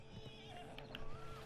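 A horse whinnies in Red Dead Redemption 2, the neigh rising over a steady bed of game ambience with faint hoof clip-clop, all within a short moment.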